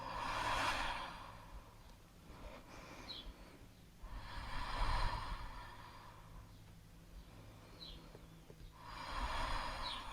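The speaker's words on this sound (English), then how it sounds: "Keep breathing here." Slow, deep breathing during a yoga pose, three long airy exhales and inhales in a steady cycle, close and soft, with no talk.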